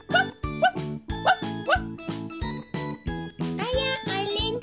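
A cartoon dog in a children's animal-sounds cartoon gives a run of about ten short, evenly spaced barks, likely voiced in imitation, over a bright musical backing.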